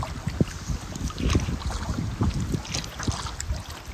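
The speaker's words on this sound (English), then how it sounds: "see if this wind passes." Strong gusty wind buffets across an Adirondack lake with whitecaps during a solo canoe trip, a loud, rumbling roar with uneven surges and faint water movement beneath.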